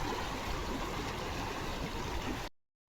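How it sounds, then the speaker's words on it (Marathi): Fast sea water rushes under high pressure during a Culaba sea fishing trip, a steady loud broadband rush with no pauses that cuts off abruptly near the end. "पाणी पण खूप प्रेशरला आहे बघा"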